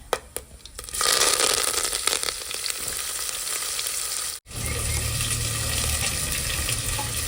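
Onion and curry leaves drop into hot oil with cinnamon, bursting into a loud, dense sizzle that crackles steadily, briefly cuts out, then resumes just as strongly, with no voices.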